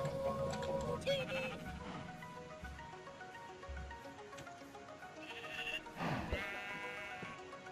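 Sheep bleating in Minecraft, several short game-sound bleats amid other in-game animal noises and background effects, with a voice talking over part of it.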